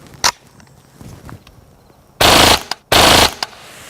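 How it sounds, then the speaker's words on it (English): A KRISS Vector in .45 ACP fires at a stainless steel beer keg downrange: one sharp single shot, then two loud rapid automatic bursts, each lasting about half a second, outdoors. "it turned out the 45 ACP wasn't quite up to the job of piercing through that stainless steel keg"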